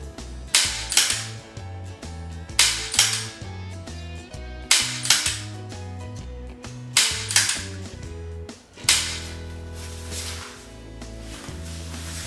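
Gunshots at an outdoor shooting range ring out as a handful of sharp bangs spaced a second or two apart, partly masked by loud background music with a heavy bass line.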